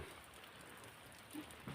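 Soft, steady rain hiss, faint and close, with a couple of light drips or taps toward the end.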